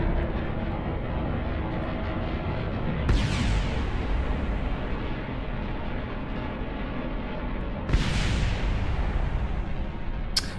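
Explosions in Kerbal Space Program during a rocket flight: two sharp booming blasts a few seconds apart, each cutting through a steady, loud engine roar.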